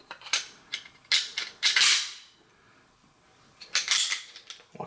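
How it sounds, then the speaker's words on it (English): A Beretta PX4 Storm Compact pistol slide being fitted onto its frame with a DPM recoil reduction system: several sharp metallic clicks and scrapes close by, in two clusters separated by a brief quiet gap. "So let's go ahead and put the slide on the frame."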